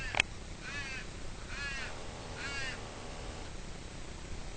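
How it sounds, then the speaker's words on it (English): A crow at Adelaide Zoo gives three harsh, evenly spaced caws from a moderate distance over quiet outdoor background noise. "Bloody old crow up there making a noise."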